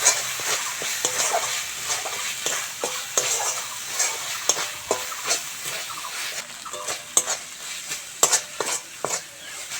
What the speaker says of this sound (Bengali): লাস্টে আমি সর্ষে বাটাটা দিয়ে অল্প একটু কষে